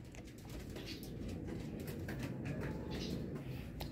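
Racing pigeons coo at a loft during a last training session, a soft steady murmur of bird sounds running throughout over a constant low background rumble.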